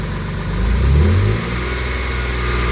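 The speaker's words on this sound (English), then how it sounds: "So if I rev it" Jaguar AJ30 VVT engine revved once: a close, loud rise in pitch over about half a second that then falls back to a steady idle, with no one speaking.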